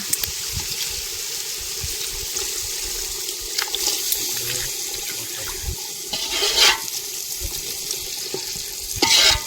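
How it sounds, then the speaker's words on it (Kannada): Water pours and splashes into a vessel, a steady running gush with a few louder surges near the end, no talking. "ಸ್ವಲ್ಪ ಕುದಿಯಕ್ಕೆ ನೀರು ಹಾಕಕತ್ತೀವ್ರಿ."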